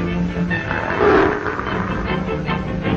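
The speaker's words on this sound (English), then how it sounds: "Shows like this where ferocious tigers from distant lands come to quicken our blood." Tigers roar during a circus show, a dense, rough growl swelling loudly near the middle of the stretch and continuing over a busy background, with no talking.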